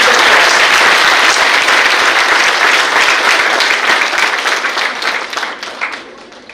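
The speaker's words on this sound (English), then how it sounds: "Please give a big round of applause and huge respect to us." An audience claps through an event hall during an International Women's Day programme at a medical college, the applause loud and dense at first and then thinning and fading toward the end.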